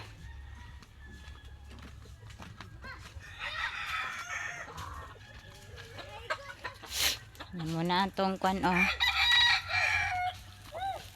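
Chickens cluck and squawk nearby in their coops while a rooster crows loudly, with a person talking intermittently over the farmyard noise.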